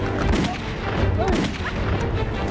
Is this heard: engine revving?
no